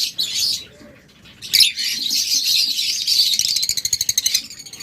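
A pair of violet opaline lovebirds chirps in quick, shrill bursts, with a brief pause early on and then a denser run of rapid repeated tweets toward the end, loud and close with no talk.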